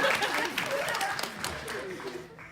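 A live NYC comedy-show audience claps and cheers, the scattered applause tapering off while a performer talks over it.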